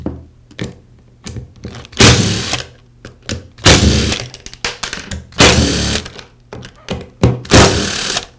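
Screws being removed from the motor housing of a Porter Cable sander with a power driver, loud bursts of whirring drill spins alternating with clicks and clunks of handling, fairly close.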